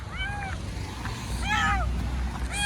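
A stray cat trapped down a well meows plaintively in three drawn-out calls, at the start, around the middle and at the end, over a low background rumble.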